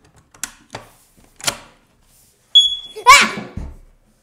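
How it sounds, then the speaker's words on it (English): A home smoke detector, reassembled after its battery was put back, sounds a single sharp high-pitched beep alone and close by, after a few taps and handling noises. "Okay, well, that beep works."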